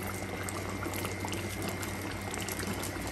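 A pot of Bengali chitol fish curry, with water just added, boils hard. Dense, continuous bubbling and simmering sound steady and close throughout, with no voices.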